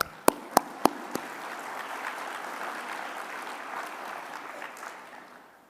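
Audience applause fills an award ceremony hall at the Earl Campbell Award, opening with a few sharp, close claps before settling into steady, dense clapping that slowly tapers off.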